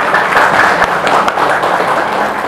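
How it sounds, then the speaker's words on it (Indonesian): An audience at a palliative care gathering at a community health centre bursts into a short burst of dense, steady clapping, loud and close throughout. "Tepuk tangan untuk kita."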